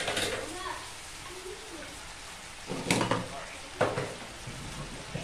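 Beef stir fry sizzling in a pan as a little dragon chili paste goes in, a steady frying hiss broken by a few sharp clatters of stirring.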